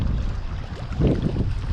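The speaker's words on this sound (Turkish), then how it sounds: "Rüzgar da esiyor fakat bu kez çok sıcak yani." Hot wind gusts and buffets against the microphone with a steady low roar, swelling briefly louder midway through.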